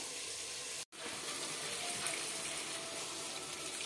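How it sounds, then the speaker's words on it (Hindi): Kitchen tap water running steadily and loudly while raw chicken is washed in a sink, with a brief cut partway through. "ये मेरा चिकन है, इसको मैं धो लेती हूँ।"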